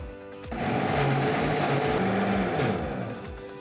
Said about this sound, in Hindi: इसको पीसते वक्त ना मिक्सर ग्राइंडर को ब्रेक देते रहिए